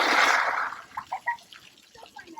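Water splashing and trickling from a ladybug-shaped play figure at an outdoor waterfront spray park, a broad loud gush at first that eases into scattered drips and small splashes.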